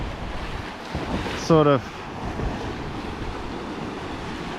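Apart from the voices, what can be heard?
ocean waves and wind at sea on a sailboat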